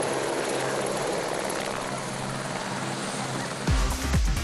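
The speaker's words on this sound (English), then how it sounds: "He climbs into his helicopter to head to the power stage in Hagenau." A helicopter taking off at a rally event in France, a steady loud rotor whine and wash that swells into deeper rhythmic blade thumping near the end.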